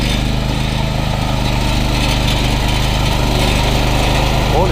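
A Chinese robot mulcher with a Loncin 13KS engine driving in second gear, a loud steady small-engine drone with a rapid regular chugging pulse, close and continuous with no talking.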